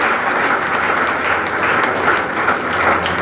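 Steady, dense applause fills a hall throughout a certificate ceremony for a Nashik cycling association's Pandharpur Wari ride, forming an even, unbroken wash of clapping with no pauses.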